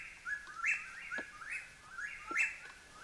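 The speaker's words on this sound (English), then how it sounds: "That is the call of the obsessive whippoorwill," A whippoorwill calling at night, repeating a quick rising whistled phrase about four times in a steady rhythm. The calls are moderately distant over a faint background hiss.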